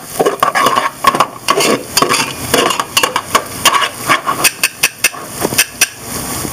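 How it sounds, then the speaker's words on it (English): A utensil stirring garlic, chopped parsley and fresh thyme sautéing in a pan, with rapid, uneven clinks and scrapes against the metal over a soft sizzle, turning into evenly spaced taps near the end. "Give that a stir."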